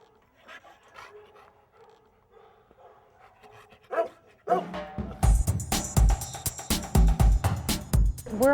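A police K9 dog pants and whines softly at first, then breaks into a rapid run of loud, close barks that continue to the end.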